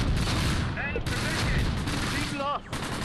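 Machine gun fire in the Close Combat World War II game rattles in loud rapid bursts with brief pauses, dense and close.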